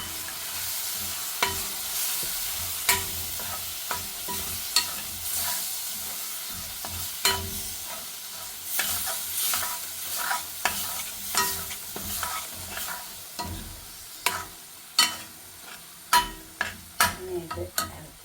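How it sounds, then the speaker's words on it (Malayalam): Onion and capsicum masala is stirred and fried in a pan, giving a low sizzle punctuated by many sharp spatula clacks and scrapes, sparse at first and then quicker and louder toward the end, with no talk. "ഇത് ഇറക്കി ചേർത്ത് നന്നായി ഇറക്കി ചേർക്കാം."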